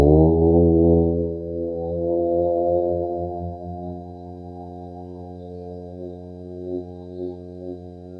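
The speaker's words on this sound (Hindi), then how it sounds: "गहरी लंबी श्वास, ओम की ध्वनि।" A single deep voice chants a long, sustained Om, a steady low resonant drone that slowly softens over several seconds.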